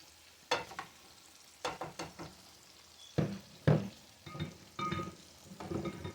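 Onions fry in a pan, heard as bursts of crackling sizzle and stirring scrapes that come and go in uneven clusters, fairly close and moderately quiet.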